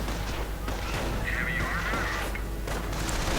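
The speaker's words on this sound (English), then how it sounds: "Recorder's rifle taking pot shots at the bunker" Rifle gunfire in a World War II strategy game pitting US troops against the Wehrmacht, a dense battle din of shots and booms at steady loudness throughout, with a voice talking over it.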